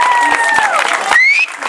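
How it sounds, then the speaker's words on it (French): An audience applauds the winner of a singing contest with a burst of clapping. Sustained tones from music play at the same time, and the clapping fades slightly near the end. "Wendeline Dufresne, on peut l'applaudir encore une fois."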